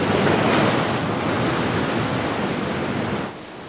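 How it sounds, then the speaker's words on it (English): Strong wind and breaking waves in an open bay near a sandy beach at Vancouver, a loud continuous broadband roar of surf and gusting wind that eases slightly near the end. "There is quite a good wind in the open bay."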